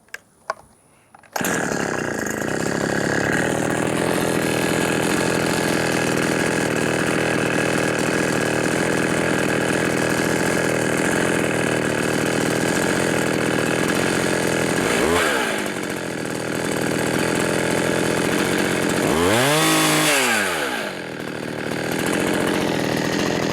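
A FARMMAC F372 Neo Tec engine screams at high RPM, starting abruptly and holding a loud, sustained whine with a couple of brief dips and swells in pitch near the end.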